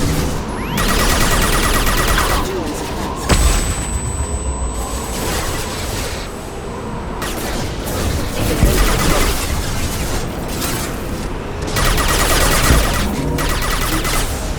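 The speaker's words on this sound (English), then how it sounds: "Watch out, flashbang!" Gunfire and flashbang blasts in a Mass Effect 2 firefight, with bursts of rapid shots and sharp bangs coming loud and close, broken by short lulls and a high whine ringing after one blast.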